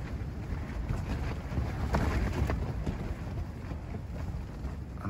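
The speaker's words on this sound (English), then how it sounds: "It's really windy out." Strong wind at a forest campsite at 4 a.m., roaring and buffeting close to the microphone, with gusty rumble and flapping that swells and eases throughout.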